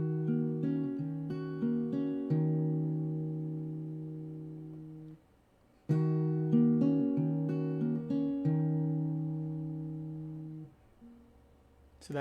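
A song is fingerpicked on acoustic guitar, close and clear. Paired strings are plucked together and then followed by ringing single notes, and the same short phrase is played twice with a pause between.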